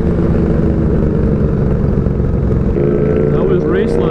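A motorcycle with loud pipes on a forest ride roars steadily up close, then downshifts with rising and falling revs near the end.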